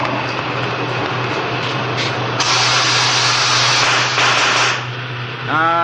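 A gas and oxygen torch is lit for tubing work, a steady hissing rush that swells and briefly surges louder before dropping away, ending in a soft pop-like burst.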